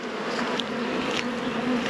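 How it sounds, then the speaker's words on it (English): Honey bees being transferred on a hot day buzz in a continuous, close drone with a steady hum and occasional individual bees passing nearer, no voices present. "Now we've got bees breaking through here."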